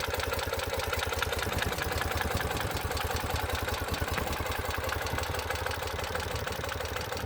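A 2009 Ural Sahara Limited Edition 2WD sidecar motorcycle engine, a fuel-injected boxer twin, settling into a steady, fast-pulsing idle after picking up, close and constant throughout.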